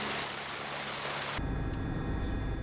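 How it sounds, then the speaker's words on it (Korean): An emergency medical helicopter idles before takeoff with a dense, steady whine and rushing turbine noise, then an abrupt cut shifts to a deeper, pulsing rotor rumble. "환자를 긴급 이송하기 위한 응급 의료 헬기가 대기하고 발빠르게 이륙을 준비합니다."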